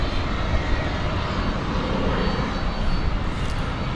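An MD-11 tri-jet airliner at DFW Airport gives a steady, loud, broadband engine roar that fills the whole stretch without letting up, heard from an outdoor spotting spot, with no voices over it.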